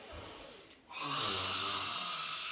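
A person growls during a yoga exercise, giving a low, rough, breathy rumble that dips briefly, then swells into a longer, strained exhale.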